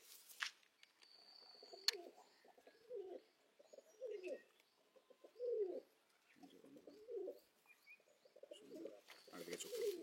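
Pigeons in a loft give a steady series of soft, rounded coos about once a second, with faint chirps and occasional wing flutters in the background, and no one speaks.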